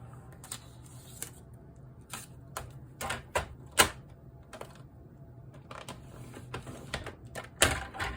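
Cardstock being scored on a scoring board for a pansy fun fold card, heard as a run of quiet, sharp clicks and taps at an irregular pace, close by and soft, with no talking.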